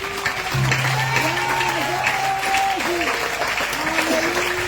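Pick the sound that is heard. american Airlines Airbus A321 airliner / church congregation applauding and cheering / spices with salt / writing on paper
church congregation applauding and cheering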